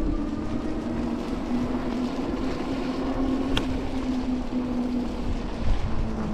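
A modified Yamaha scrambler motorcycle rides through snow on New York City streets, its engine a steady, close drone that holds through the whole stretch with no talk over it.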